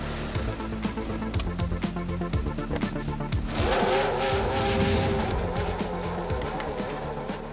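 A Formula One car engine screaming at high revs with rapid, forced gear changes, a near continuous roar broken by quick shift stutters before a louder sustained passage.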